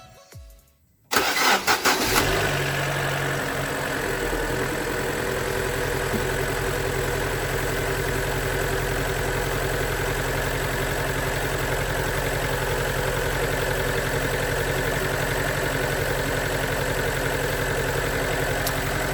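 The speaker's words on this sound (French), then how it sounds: "Je vais démarrer le moteur pour vous donner une idée de ce que ça donne visuellement." A Fiat Grande Punto 1.4 T-Jet engine with a misfire cranks briefly, catches with a burst, then settles into a steady, loud idle that keeps running unevenly.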